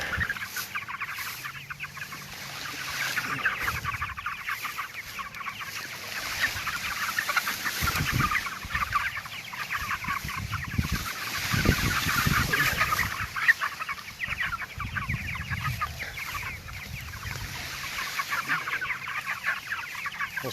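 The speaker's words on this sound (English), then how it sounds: "It just comes down to the chickens moving in the back." Chickens on an organic farm cluck and shuffle about nearby, with a steady stream of overlapping clucks and calls that rise and fall throughout.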